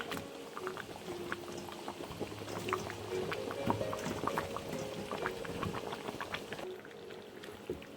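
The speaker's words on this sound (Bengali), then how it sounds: "এখন এগুলোকে মিশিয়ে নিচ্ছি যাতে পুরোপুরিভাবে এটা সিদ্ধ হয়ে যায়" Beef and pumpkin curry simmers in a pot, giving a soft, continuous bubbling and gurgling of thick liquid, fairly quiet and steady throughout with no voices.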